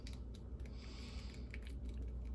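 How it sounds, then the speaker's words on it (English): Small plastic ratchet joints on an AEW Unrivaled Chris Jericho action figure, toothed parts grinding against each other, give off a series of faint, quick clicks at close range. "there's like a clicking sound because the teeth are running against each other"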